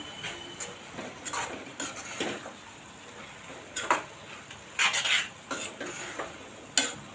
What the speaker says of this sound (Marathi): एक मोठा चमचा धना जिरा पूड घातली आहे मी आता आपण चांगलं परतून घेऊया